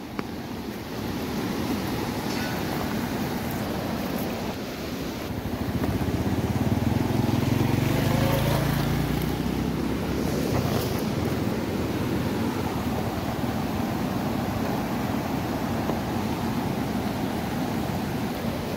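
A river in flood after heavy monsoon rain rushes past in a continuous broad roar that swells slightly partway through, steady and close, with no voices.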